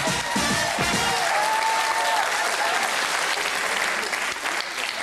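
A studio audience applauds to welcome a guest onto a German talk show, steady loud clapping that swells at once and carries on throughout, with a voice speaking briefly at the start.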